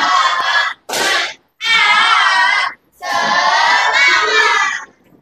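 Students in a classroom perform the tepuk semangat cheer together, with loud unison shouted bursts and clapping in four energetic phrases separated by short silent gaps.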